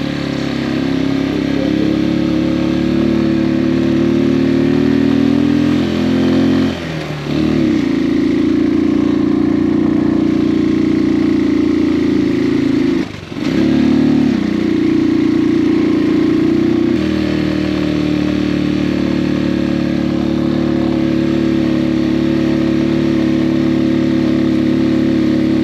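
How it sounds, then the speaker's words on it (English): A new motorbike's engine drones loudly and steadily as it climbs hard uphill on a mountain road in Benguet, with two brief dips where the throttle eases before it pulls again. "I am going hard on my motorbike."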